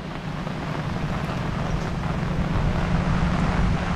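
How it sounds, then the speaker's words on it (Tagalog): Strong wind blows across open rice paddies, a loud, continuous roaring gust buffeting the microphone with no pause. "Sobrang lakas po dito ng hangin."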